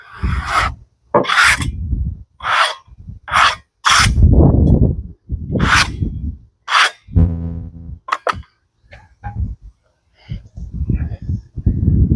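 Scraping debris off freshly milled black locust boards by a Norwood HD36v2 sawmill, a series of rough raspy strokes in bursts, fairly loud and close, with someone talking between them.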